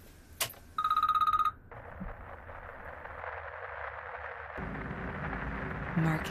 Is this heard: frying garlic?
no